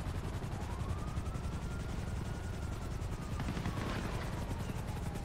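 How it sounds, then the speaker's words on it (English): Helicopter in GTA 5 Online, a steady dense rotor and engine roar filling the whole stretch with a faint whine rising over it and a few sharp clicks near the end, no talk over it. "I'm going in a helicopter since I ain't got no ride."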